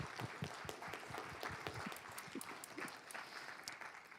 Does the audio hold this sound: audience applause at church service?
yes